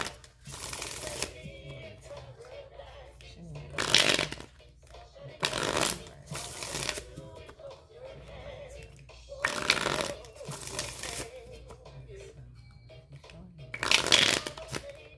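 A deck of tarot cards shuffled by hand in several quick riffling bursts spaced a few seconds apart, close and moderately quiet, over a low steady room hum.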